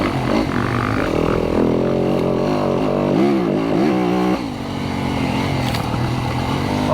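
Yamaha YZ250FX dirt bike on single track, its engine loud and close throughout, revving up and down in rapid surges as it works along the trail.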